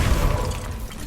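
A Confringo blasting spell bursts in Hogwarts Legacy, a single loud low boom at the start that rumbles and fades over about a second, with no voices.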